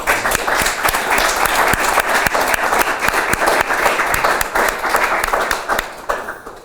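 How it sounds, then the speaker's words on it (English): An audience claps for students at a journal launch party, with a dense, steady round of applause from many hands that carries on for several seconds before tapering at the end. "Could we give the students a round of applause?"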